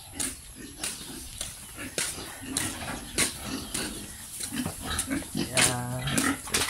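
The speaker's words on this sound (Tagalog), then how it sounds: "Yan, mga pig." Native pigs grunt in a pen, a series of close, uneven snorts and low grunts with a louder rasping squeal toward the end.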